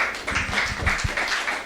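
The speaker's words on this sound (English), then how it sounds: "let's give her a round of applause" Audience applause for a speaker at a conference talk on African currency, moderate clapping with a few sharper claps standing out, heard up close without speech.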